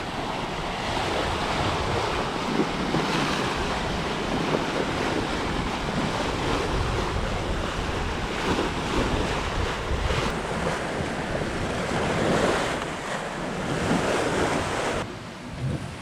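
Hallberg-Rassy 54 sailing yacht skimming through ocean waves along a coral reef at about seven to eight knots, with a continuous rush of water and surf against the hull and steady wind noise, no voices.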